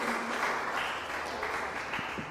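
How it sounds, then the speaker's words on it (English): Audience applause at a school Bible quiz contest in Ghana, a steady wash of clapping throughout, fairly loud and continuous with no break. "And let's continue the applause as we welcome"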